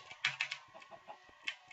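Chickens cluck in the video game Minecraft, with a few short, quiet clucks and pecking-like ticks spread across a brief, low-level stretch of game sound.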